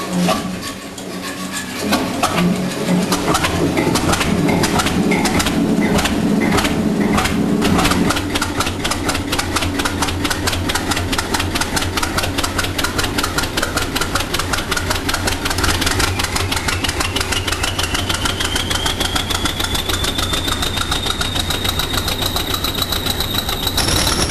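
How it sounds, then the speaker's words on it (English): An English Electric Type 4 diesel locomotive cranks and fires up in cold conditions at Buckley Wells, settling into a loud, steady, knocking idle that runs on continuously with no talk over it. "diesel locomotive, starts up under cold conditions at Buckley Wells for a loco shunt"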